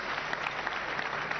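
Church congregation applauding together, a steady dense wash of clapping throughout with no talking over it.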